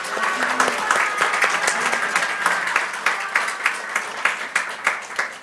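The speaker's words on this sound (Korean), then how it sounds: "축복하는 마음으로 박수 부탁드립니다" A church congregation applauds together at a Sunday service, a steady dense wash of many hands clapping that holds throughout at moderate loudness with no talk over it.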